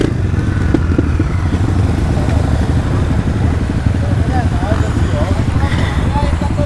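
Motorcycles ride a muddy trail in the rain, their engines loud and close throughout with a steady rough roar and uneven throttle pulses.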